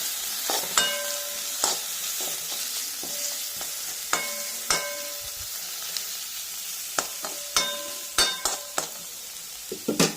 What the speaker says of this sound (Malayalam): ഇഞ്ചി വെളുത്തുള്ളി ഇതൂടെ ഇതിൻ്റെ കൂടെ ഇട്ട് വഴറ്റിയെടുക്കാം